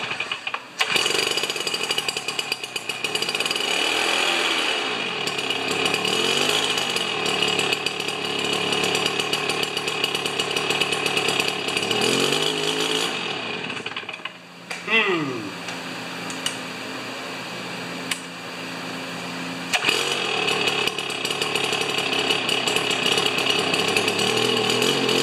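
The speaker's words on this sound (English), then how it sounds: "see if it starts on choke" A Stihl BR430 backpack leaf blower engine runs on choke, roaring loud and rough with the pitch surging and sagging, briefly dipping near the middle before picking back up and revving on steadily.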